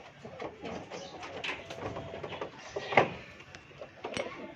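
Pigeons coo softly in low, throaty calls amid a busy background of rustling and shuffling, fairly near but not loud.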